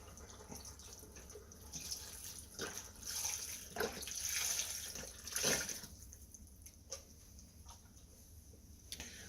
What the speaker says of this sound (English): We're now going to put in our seafood stock.